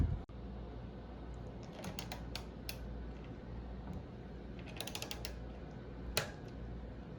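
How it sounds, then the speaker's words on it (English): A torque wrench set to 5 newton meters ratchets and clicks while tightening the stem bolts on a Specialized Tarmac SL4 bicycle, with quiet clusters of close mechanical ticks and one sharper click near the end, no talking. "So let's go ahead and torque down those stem bolts there"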